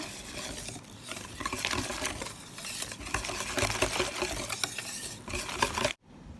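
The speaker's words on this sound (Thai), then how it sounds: "คนส่วนผสมให้เข้ากันก่อนนะคะ" Batter for Thai-style chilled crepes being stirred in a bowl with water, a steady scraping, tapping whisk-and-bowl clatter that runs continuously and fairly close before stopping abruptly near the end.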